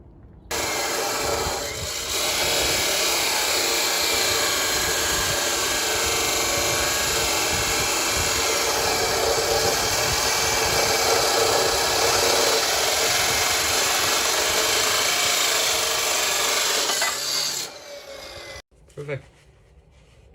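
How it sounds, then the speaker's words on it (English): Steel pipes for a buggy frame are cut to length with a power tool, producing a loud, continuous grinding whine that holds steady for about fifteen seconds before winding down and stopping, followed by a couple of brief clunks. "now we'll go ahead and cut the pipes to length"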